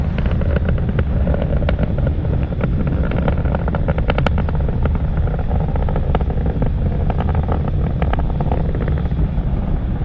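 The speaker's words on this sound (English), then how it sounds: "we know that Falcon 9 is moving faster than the speed of sound." A loud, continuous roaring rumble with crackling bursts from the engines of a SpaceX Falcon 9 rocket in flight past the speed of sound, launching Indonesia's Satria-1 satellite, heard at a distance, steady and without voices.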